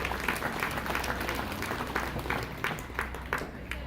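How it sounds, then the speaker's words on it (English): Audience at a San Angelo event applauding mentors and parents, moderately loud hand-clapping with distinct claps and a few voices murmuring beneath. "I'd ask if you would give them a big round of applause for their support"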